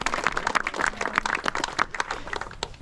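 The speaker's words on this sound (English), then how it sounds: "Give them a big round of applause." A parkrun crowd in Uckfield applauds first-time parkrunners with a burst of scattered outdoor clapping that stays busy and uneven from start to finish, with no voices over it.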